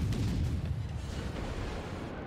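Heavy naval guns firing at a battleship at point-blank range in World of Warships, deep booming blasts rolling together into a loud, sustained rumble that slowly fades.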